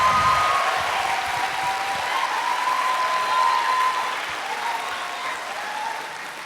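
Sustained applause from a live event audience for Janelle Monáe, dense and steady clapping that fills the whole stretch, fading slightly toward the end, with faint cheering mixed in.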